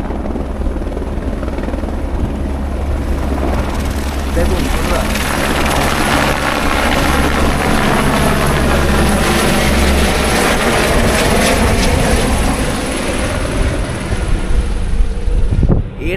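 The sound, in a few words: helicopter taking off at Badrinath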